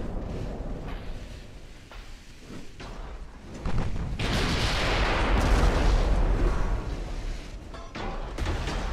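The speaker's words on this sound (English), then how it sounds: "get our mains firing on the Admiral Senyavin" Main battery guns of a dreadnought-era battleship firing in Ultimate Admiral: Dreadnoughts, heavy booming salvos rolling into a dense, loud roar of gunfire and explosions that swells midway and persists, with no talking.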